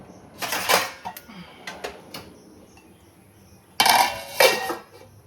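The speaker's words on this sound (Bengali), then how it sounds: "দাঁড়াও ঢাকনাটা দিয়ে দিই।" A metal lid settles onto a rice pot with a few bright clattering clanks, two clear bursts separated by quieter rattles and knocks, close by in a home kitchen.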